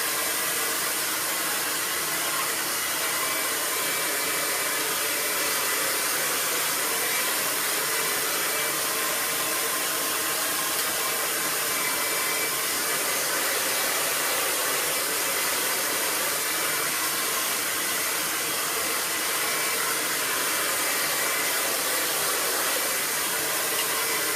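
A salon hair dryer blowing a client's hair dry after a cut, a loud, continuous, close-up airy whoosh that holds steady the whole time.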